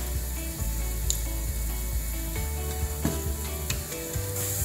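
Garlic frying in a pan for molokhia (jute leaf soup), a steady soft sizzle with faint crackles and occasional light scrapes, close and fairly quiet, no talking.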